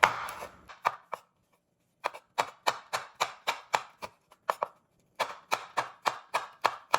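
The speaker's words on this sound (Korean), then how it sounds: "홍고추도 이렇게 씻어서 준비했는데 길쭉길쭉하게 채를 썰게세요" Kitchen knife chopping fresh red chili peppers into long thin julienne strips on a cutting board, sharp rhythmic knocks in quick bursts with short pauses between runs, close and clear with no talking.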